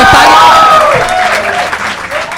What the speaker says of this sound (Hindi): इन्हीं तालियों के साथ बुलाता पार्थ वसानी